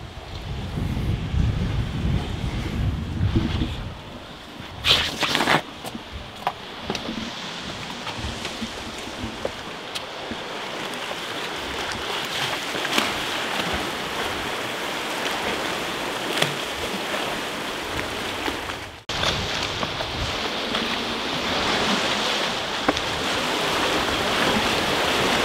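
Sea current splashes and washes against the hull of the abandoned ship MV Alta near Cork, Ireland, a continuous surging wash with heavy wind buffeting the microphone and a few sharp knocks.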